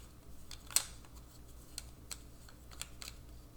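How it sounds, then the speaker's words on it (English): Game pieces are shuffled for a new round, making scattered light clicks and taps as they knock against each other, quiet and irregular. "now we shuffle this up and"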